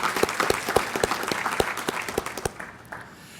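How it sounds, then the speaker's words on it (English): Graduates at a graduation ceremony applaud in a burst of clapping with distinct sharp claps standing out, fading after about two and a half seconds to a quieter room tail. "Please give yourselves a round of applause for what you've been able to accomplish."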